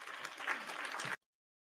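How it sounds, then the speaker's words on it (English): A short burst of clapping, quick, dense and close, lasting about a second before cutting off abruptly to silence. "Let's clap for her real quick."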